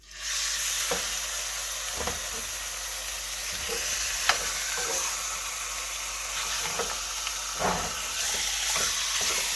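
Pork meat sears in a hot pan with a loud, constant hiss that starts abruptly and holds steady, marked by occasional pops and crackles.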